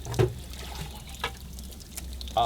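Rinse water is poured from a bucket into a sapphire screen, making a short close splash and then a steady soft trickle, with a couple of faint knocks and no talk.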